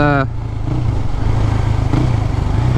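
A decatted Husqvarna 401 motorcycle engine chugs steadily at low revs with a deep, even throb while riding, close up, after a brief higher tone at the start.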